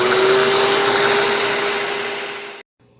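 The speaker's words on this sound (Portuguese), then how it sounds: "Após batido na batedeira por cerca de 10 minutos" Loud steady whirring of an electric stand mixer beating coconut cake batter, a continuous motor drone that fades slightly and then cuts off abruptly near the end.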